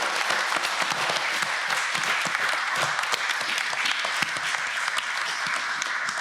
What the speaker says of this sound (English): So please, everyone, just join me in giving a round of applause.